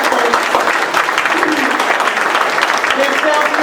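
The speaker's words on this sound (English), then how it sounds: "Let's everybody give a round of applause to those who have offered" Audience applause at a community forum, a dense, steady wash of many hands clapping close and loud throughout, with voices murmuring underneath.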